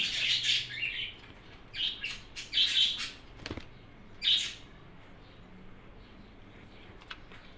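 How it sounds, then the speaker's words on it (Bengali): Bursts of shrill, noisy bird chirping and squawking from a group of budgerigars, coming in clusters with short gaps, fairly close. "পিছনে আমার পাখিগুলো কি বলবো এত পরিমাণের চিল্লাচিল্লি করে"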